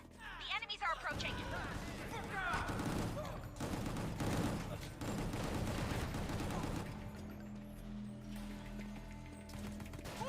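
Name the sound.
gunfire from the video game Gungrave G.O.R.E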